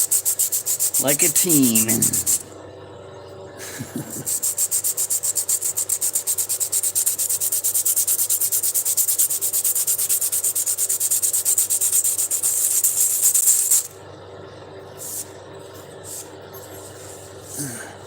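Hand-polishing a rock by rubbing it, working the stone down to a smooth contour; a steady, close, continuous scrubbing and rasping that runs for long stretches and breaks off briefly, with a short spoken phrase near the start.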